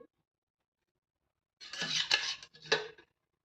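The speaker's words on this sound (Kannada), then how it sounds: "ಗ್ಯಾಸ್ ಮೇಲೆ ಒಂದು ಕಡಾಯಿ ಇಡಿ ಪುರಿ ಮಾಡೋಕ್ಕೆ." A kadai pan being set on a gas stove for frying puris, a couple of close metallic clinks and scrapes after a quiet pause.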